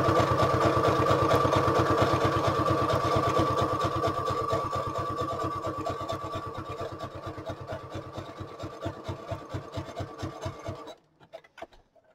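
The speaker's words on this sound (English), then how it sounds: "I'm just going to go ahead and zigzag around the rest of the envelope. I'm stitching right up to the edge" Sewing machine zigzag-stitching around the edge of an oversize paper envelope, a steady close rhythmic chatter that slows and stops near the end.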